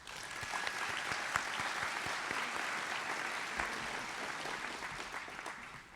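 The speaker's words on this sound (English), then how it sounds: "If you would give a round of applause to our board members." At a 2024 graduation ceremony, an audience applauds the board members with dense, continuous clapping that holds steady for about six seconds and fades slightly toward the end, with no voices over it.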